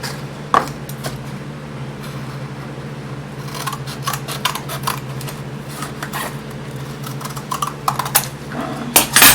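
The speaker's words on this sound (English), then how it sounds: "so I'll cut it a little bit past that just to make sure I have enough flap" A cardboard shipping box is cut down with scissors, giving a string of short, crisp snips and scrapes against a steady background hum.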